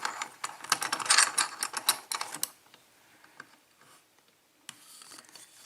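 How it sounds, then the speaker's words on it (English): A small cabinet lock is clamped into a bench vise with a close burst of ratcheting metal clicks and rattles. Quieter scattered clicks follow, then one more brief rattle near the end. "Let's put this little cabinet lock in the vise."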